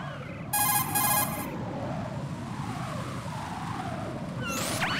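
A cell phone rings in the stealth video game Metal Gear Solid, a short bright electronic ringtone burst near the start over a low droning game ambience, with a rising synth sweep at the end.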